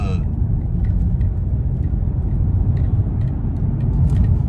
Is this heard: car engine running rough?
yes